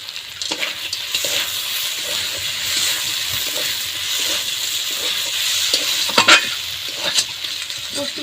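Fried lentil dumplings tipped into a hot pan of onion and potato curry and stirred, bringing steady sizzling with scraping spoon strokes and a few louder clatters near the end.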